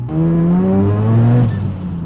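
A Mazda RX7 FD rotary engine revs hard under full acceleration, a loud close droning whine climbing steadily in pitch, then dropping abruptly at a gear change before building again, with no talk.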